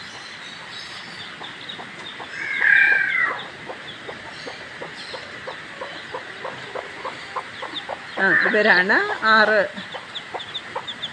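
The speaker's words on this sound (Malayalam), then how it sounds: "6 കോഴികൾ. കണ്ടോ," Six farm hens cluck and squawk in a coop, with two louder bursts of agitated cackling over a busy background of softer clucks, while someone speaks quietly nearby.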